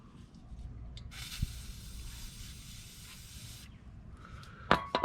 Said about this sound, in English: I'm going to be shooting some penetrating oil.